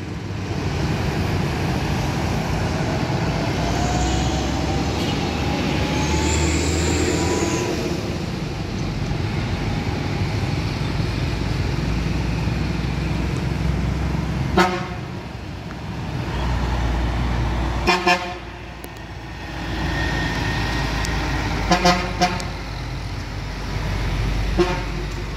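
A red JRG bus rolls past with a continuous road roar that swells and fades, several sharp horn toots cutting in near the end.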